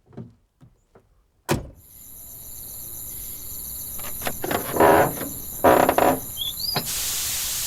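Crickets chirp in a forest at night, a steady high shrill drone running throughout behind scattered knocks, a car door and brief mechanical sounds nearby.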